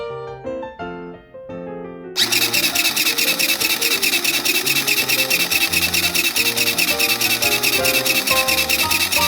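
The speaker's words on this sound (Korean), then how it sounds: "재봉틀로 바느질을 해줄게요" Soft music plays alone, then a sewing machine starts stitching fabric, its fast, steady mechanical rattle continuing loudly over the music.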